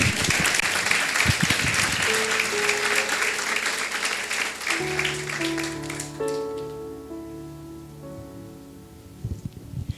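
Loud applause from a church congregation during a sermon fills the first half, then tapers off as sustained musical tones from a keyboard take over.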